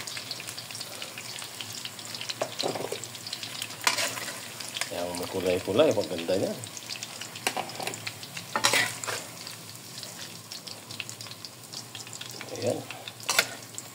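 Bell pepper fries in a pan for beef mechado with potatoes, giving a steady, moderately loud sizzle that runs throughout, with stirring and brief speech over it.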